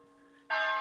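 Church bells ring out loudly, a sudden bright metallic clang swelling over a softer, sustained ringing tone that was already sounding.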